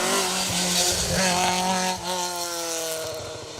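A Mark 1 RS 2000 rally car races along an asphalt rally stage, its engine rising and falling through revs as tyres squeal, loud and fairly close, with a brief dip as the car passes.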